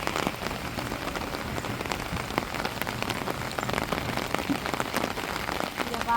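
Steady rain pours down in a Tamil village, drumming on surfaces and spattering water where a hose-like rig collects rainwater, a dense close hiss with scattered louder drops throughout.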